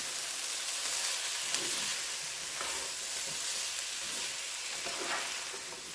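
Sausage and potatoes sizzle steadily in a pan, a bright continuous frying hiss with occasional soft scraping as they are stirred, close up and without speech.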